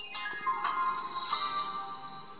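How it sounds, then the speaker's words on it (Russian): Startup tune from a Chinese copy of an HTC phone: a short, bright electronic jingle of rising tones and chimes from the handset speaker, steady and fairly loud with no talking over it. "А, вот, телефончик наш включается, очень музыкально, очень интересно."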